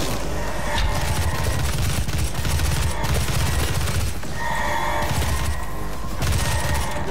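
Assault rifle fire in DOOM (2016): dense, rapid automatic gunfire with booms and impacts, loud and continuous across the whole stretch amid game combat noise.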